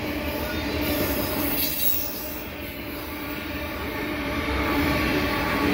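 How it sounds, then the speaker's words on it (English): A loaded CN Canpotex potash unit train rolls steadily past at Dorval, its wagons producing a continuous loud rumble with squealing wheels and faint rail clatter throughout, no voices. "this train is going to take about 2 minutes to fly through here"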